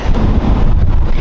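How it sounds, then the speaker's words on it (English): Strong wind buffets the microphone in a loud, continuous low roar with gusty rumbling throughout. "It's extremely windy, as you might see"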